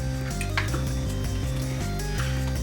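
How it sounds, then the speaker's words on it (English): Chicken stew being stirred in a pot gives soft wet squelches and occasional utensil scrapes against the metal, a close, moderately loud churning under steady background music with no talking. "and then you just stir it all together."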